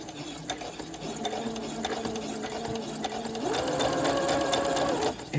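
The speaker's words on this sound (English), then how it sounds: "So I'm just gonna sew it right here." A sewing machine stitches a shortened sleeve in a continuous whirring run, close and steady, speeding up slightly near the end.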